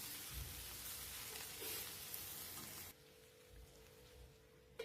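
Thinly sliced okra hisses and sizzles as it hits hot oil with tempering spices in a pan. A steady frying crackle runs for a few seconds, then drops to a quieter simmer.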